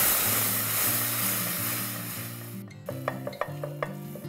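Fried golden-brown onions being stirred with red chili powder and curd in a pan over a lowered flame for biryani, soft sizzling with a few clinking utensil taps near the end.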